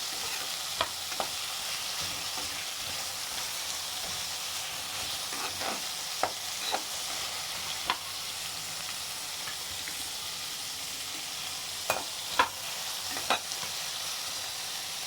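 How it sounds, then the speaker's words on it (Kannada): Ginger and garlic frying in a pan for country chicken sambar, a continuous gentle sizzle broken by a few sharp clinks and scrapes of a stirring spoon, with no talking. "ನೆಕ್ಸ್ಟ್ ಶುಂಠಿ ಮತ್ತು ಬೆಳ್ಳುಳ್ಳಿ ಹಾಕೊಳ್ಳೋಣ ಇದೆಲ್ಲ ಸ್ವಲ್ಪ ಫ್ರೈ ಆಗಬೇಕಾಗ್ತದೆ"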